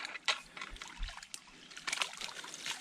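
Water trickles and dribbles through a freshly cleared beaver dam, a faint, uneven patter of small splashes with occasional low knocks of debris nearby.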